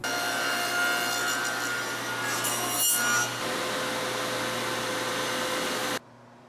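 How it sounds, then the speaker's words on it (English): A wooden transition strip being milled, a steady loud rasping machine cut through the wood lasting several seconds with a brief surge midway, then stopping abruptly. "Make another cut."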